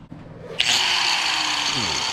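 A cut-off wheel whines up to speed and then grinds steadily through metal race car parts, loud and close, with a rising pitch near the end.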